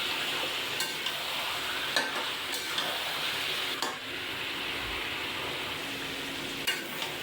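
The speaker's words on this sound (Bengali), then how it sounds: "মশলাটা মাংসের সাথে আমি মিক্স করে আবারও একটু কষিয়ে নেব।" Chicken coated in biryani masala stir-fried in a pot: a steady close sizzle with periodic scraping strokes of the spoon against the pot, no voices.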